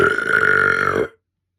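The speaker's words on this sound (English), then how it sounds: "here's a big belch that I'm about to channel" A single big, deliberate belch, loud and close, with a strong rasping voiced tone that holds steady for about a second before cutting off abruptly into silence.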